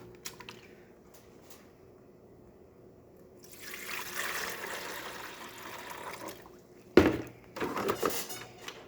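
Water pours into the emptied tank of a DeLonghi Magnifica coffee machine, a steady splashing trickle that starts after a quiet pause, with a knock near the end and further splashing close by.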